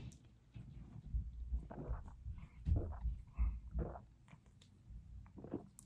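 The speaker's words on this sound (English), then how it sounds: "Let me take a drink out of this." Quiet, close-up gulping and swallowing sounds in a few irregular bursts, like someone taking sips from a cup, with soft wet mouth noises between.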